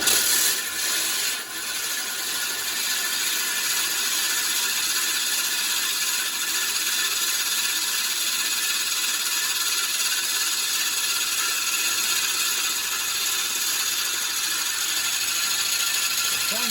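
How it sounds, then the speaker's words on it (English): A reel mower's cutting cylinder turns slowly backwards during back lapping, giving a continuous even mechanical whirr with fine ratcheting clicks that holds steady throughout. "Trying to keep the cylinder spinning, but nice and slowly. And we're spinning it backwards."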